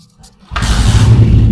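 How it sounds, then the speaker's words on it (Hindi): A repaired 125 motorcycle engine fires up after a brief quiet moment, then runs loud and close with a steady, throbbing idle. "अब जो है आप माशाल्लाह बाइक का साउंड चेक करें।"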